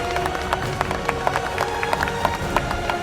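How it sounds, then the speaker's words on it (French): An audience at a club celebration day applauds Josette, a dense, steady patter of many hands clapping together for a few seconds, fairly close and continuous with no talking over it. "On peut l'applaudir"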